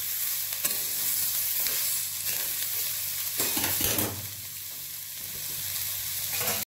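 Sprouted moth beans stirred in a black iron pan, a steady scraping and sizzling with a few sharper clinks of the spoon, close and moderately loud, no talking.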